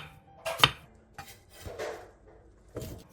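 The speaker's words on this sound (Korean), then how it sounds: "양파 1개를 한입 크기로 큼직하게 잘라주세요" A knife chops an onion into large bite-sized chunks on a cutting board, giving a few separate close knocks with short pauses between them.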